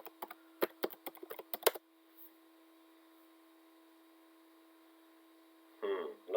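A password typed on a computer keyboard: a quick burst of about a dozen close key taps lasting under two seconds, followed by quiet hum and a brief rustle near the end.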